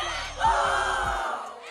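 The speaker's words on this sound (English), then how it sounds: "They stepped up and the crowd went wild" A crowd roars and yells in a wild, sustained burst of cheering, rising sharply near the start and staying loud and dense throughout, with thumping low hits underneath.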